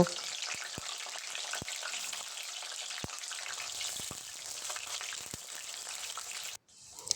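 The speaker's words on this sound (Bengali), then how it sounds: "কড়াইয়ে সর্ষের তেল দিয়ে দেব তেল হালকা গরম হলে আমি ডুমো ডুমো করে কেটে রাখা আলুগুলো দিয়ে দেব" Diced potatoes fry in mustard oil in a kadai, a continuous close sizzle with scattered sharp pops and crackles, cutting out abruptly near the end.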